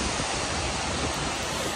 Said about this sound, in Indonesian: Akhirnya kita sampai juga di depannya dasar dari air terjun Coban Sewu.